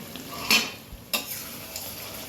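Duck meat curry simmers in a pot as a utensil stirs it, soft bubbling and sizzling broken by two sharp metallic scrapes against the pot, close and fairly quiet with no talking.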